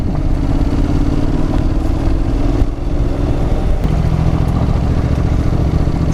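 Honda NC750X motorcycle ridden over gravel and dirt, its engine a loud continuous rumble mixed with wind roar and crunching, rattling road noise, without any speech.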